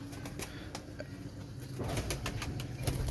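At the Shahdra pigeon market in Lahore, a pigeon is let go and beats its wings in a burst of rapid flapping that grows fuller partway through, set over low market bustle and faint cooing.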